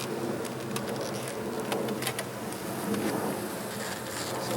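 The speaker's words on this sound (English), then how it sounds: "So lots of bees, as one would expect." Honey bees buzz around an open hive during an inspection, a continuous droning hum with scattered crackles and knocks, no talk.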